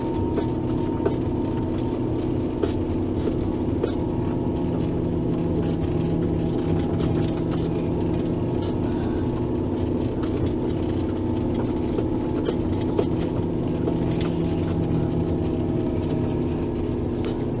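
A tractor engine runs steadily while plowing snow in the mountains, a constant low droning hum with faint rattles and clicks throughout, heard from inside the cab without talk.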